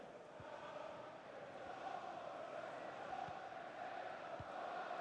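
A large stadium crowd of Manchester United fans at Wembley in the FIFA 23 football game, a steady distant roar and murmur with a few faint thumps, no distinct talking over it.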